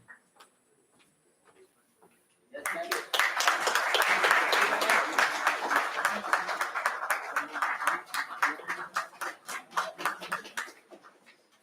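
An audience at a ceremony applauds: after a couple of quiet seconds, dense clapping starts abruptly and holds steady at moderate loudness, thinning into more distinct individual claps before ending.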